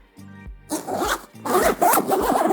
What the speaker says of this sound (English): This is like a YKK number 8 reverse coil zipper.